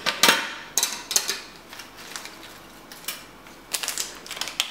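A packet of electronic components is snipped open and handled, giving sharp crinkly clicks and rustles in scattered bursts with quiet gaps between, close and fairly loud, with no talk.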